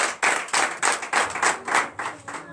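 Congregation at a Sunday church service clapping in acclamation for Jesus: a steady rhythmic series of about ten loud, evenly spaced claps from many hands, close and clear.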